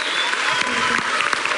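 Dense applause from a studio audience on a Bulgarian televised singing contest, steady and full for the short stretch, with faint scattered crowd noise beneath and no talking.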